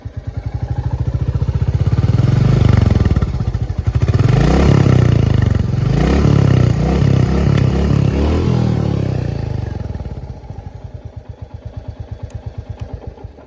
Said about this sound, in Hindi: इस गाड़ी का मैं आपको एक बार एग्जॉस्ट साउंड चेकआउट कराने वाला हूँ